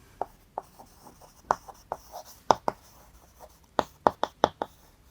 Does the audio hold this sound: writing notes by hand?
yes